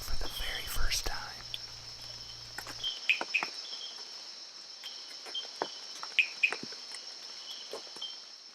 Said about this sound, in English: record the call of this frog for the very first time.